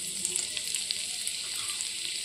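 Chopped ginger and garlic sizzle in hot oil in a pan, a bright, continuous crackle with small popping bursts, heard up close and alone, with no talking.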